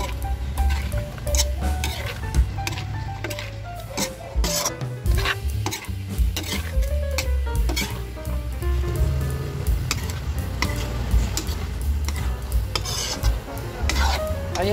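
Chicken liver with onion leaves being stirred in a pan, a steady scraping and rubbing of a utensil against the metal with faint sizzling, close and continuous, with no talk.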